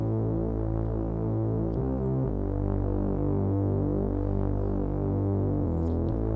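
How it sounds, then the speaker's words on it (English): A deep, buzzy Moog synthesizer bass line drones and shifts between sustained low notes, loud and continuous with no voices. "I recorded it with my Moog and it sounds like this."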